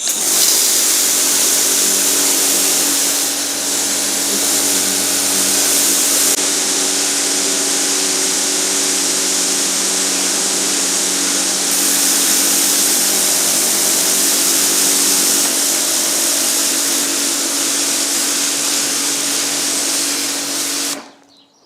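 A Kärcher pressure washer with a standard single nozzle sprays water in a loud, steady hiss that runs unbroken for about twenty seconds before cutting off abruptly.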